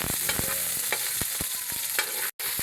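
Onion and garlic stir-frying for pancit canton, a constant loud sizzle with quick scraping strokes of a spatula repeating irregularly and one brief cut in the middle, no voices.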